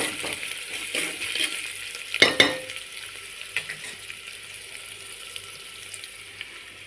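Onions sautéing in a pan for amla (gooseberry) rice give off a low, steady frying crackle with a few louder stirring scrapes and clatters near the start, then settle into a quieter, even sizzle with occasional soft clinks.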